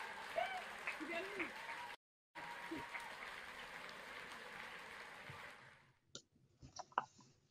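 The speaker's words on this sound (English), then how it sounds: "give yourself a big round of applause" Graduates of the Birkbeck, University of London English and Theatre department clap over an online call, a steady patter of applause that briefly cuts out, then thins into a few scattered, near claps at the end.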